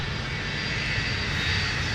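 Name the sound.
Boeing 757-200 jet engines at MSP airport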